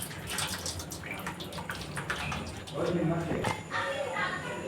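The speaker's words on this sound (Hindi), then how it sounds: "तो पानी पूरा ऐसे निकाल देंगे।" Water from boiled noodles draining through a strainer into a pot, a steady splashing rush with a heavier pour partway through, close by while a person talks.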